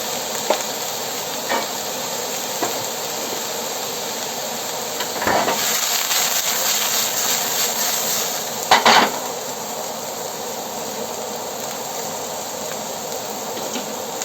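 Garlic sizzles steadily in a hot wok, a continuous frying hiss with a few scraping stirs and clanks of a utensil against the pan.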